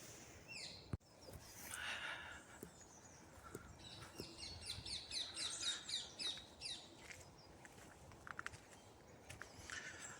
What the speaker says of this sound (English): Little robin over there.